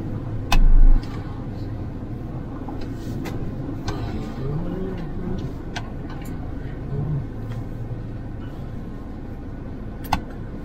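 Mahindra Thar rolling along a road in gear with no throttle, giving a steady low engine and road rumble inside the cabin, with a couple of brief knocks and clicks.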